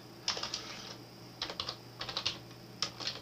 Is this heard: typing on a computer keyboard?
yes